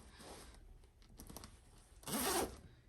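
Zipper pulled to attach a quilt leader onto a longarm quilting frame, a quiet close-up series of short ratcheting zips followed by one louder, longer rasping pull near the end.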